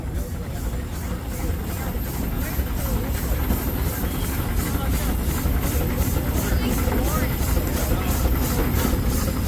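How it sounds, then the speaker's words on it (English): A 1910 JIK steam traction engine idles in a parade, a steady low mechanical chug with a faint regular high ticking, held at an even loudness throughout with crowd noise around it. "JIK Steam Traction Engine"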